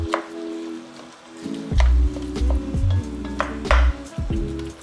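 Two pounds of ground lamb browning in a pan for ragu, with steady sizzling and the loud scrape and knock of a utensil stirring and pushing the meat around, close up.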